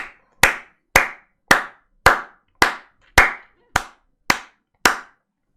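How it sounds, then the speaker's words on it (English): One person clapping slowly and steadily, about ten loud, evenly spaced claps close to the microphone with silence between each. "That's a round of applause."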